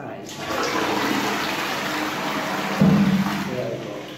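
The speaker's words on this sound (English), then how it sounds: "You can see this one here for flushing from this side." A dormitory toilet flushes, a steady broadband rush of water running throughout with a stronger surge near the end, sounding close in a small bathroom.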